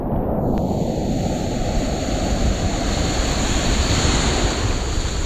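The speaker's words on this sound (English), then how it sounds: "Come in on these waves here." Ocean surf rushing loud and close around a fishing kayak near rocky shore, a continuous broadband roar of breaking waves mixed with heavy wind buffeting the microphone.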